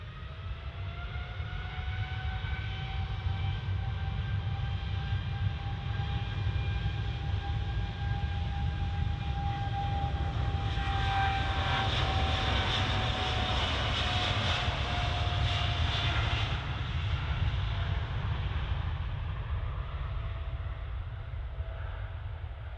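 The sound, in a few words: Gulf Air Boeing 787-9 Dreamliner taking off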